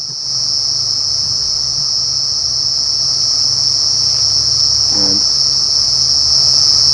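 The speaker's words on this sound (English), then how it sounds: "the chance of finding one of these cicadas is very, very slim. So at least we tried, and that's what's making this loud, shrill noise." Cicadas at Djuma Game Reserve keep up a loud, shrill, unbroken drone during an afternoon safari drive, with a faint low rumble beneath it and no voices.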